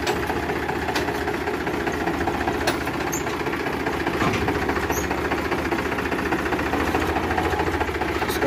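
A Powertrac Euro 50 tractor engine runs steadily, a constant, dense mechanical chugging at fairly loud level with faint clicks and knocks and no clear talking.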